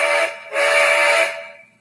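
Two sustained blasts of an LMS Black 5 steam locomotive whistle, a brief first toot then a longer loud chord that trails away, heard alone without talk.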